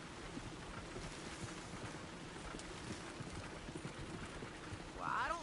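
Horse hooves clip-clop in a steady walking rhythm in a PS4 video game, quiet and continuous beneath voices talking.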